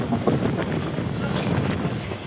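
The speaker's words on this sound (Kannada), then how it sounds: "ಫುಲ್ ತಣ್ಣಗೆ ಗಾಳಿನೂ ಬರ್ತಿದೆ" Cold wind blows outdoors during rainy weather, a steady, close rushing that buffets the microphone throughout with no clear break.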